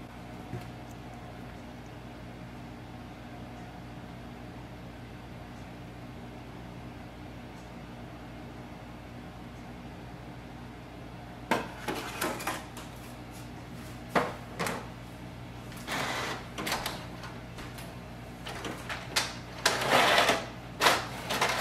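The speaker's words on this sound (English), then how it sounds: "Let's print a document." Canon Maxify GX5070 printer printing a document: a steady low hum for several seconds, then repeated mechanical whirring and clacking bursts of paper feeding and print-head travel, close and moderately loud.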